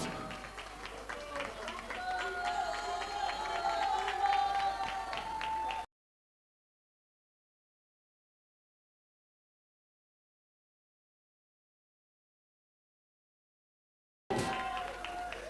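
An audience applauds an award recipient at a TV awards ceremony, a burst of clapping mixed with an announcer's voice, cut off by a long stretch of silence before sound returns briefly.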